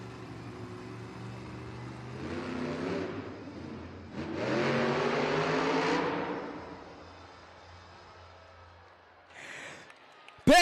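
A Monster Jam truck's engine at an arena event in Pittsburgh, Pennsylvania, revs hard in two long surging bursts that rise and fall, loud and roaring, then drops to a lower rumble before a sharp spike at the end.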